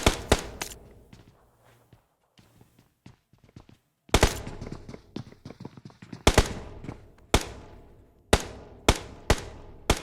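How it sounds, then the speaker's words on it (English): Gunfire in the battle royale game PUBG: a string of sharp, loud single shots and short bursts, spaced irregularly with quieter gaps and faint footsteps between, some close and some more distant. "We hear other shots coming out"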